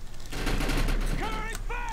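Gunfire in the video game Defiance, a dense burst of shots rattling for about a second, followed by short bursts mixed with game tones and a voice talking.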